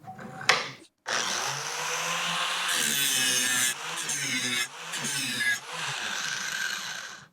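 An old dull mower blade being ground on an All American Sharpener. A steady, loud abrasive grinding whine runs in long stretches with brief breaks, and a short knock comes at the start.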